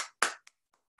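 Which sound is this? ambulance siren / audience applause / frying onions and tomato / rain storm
audience applause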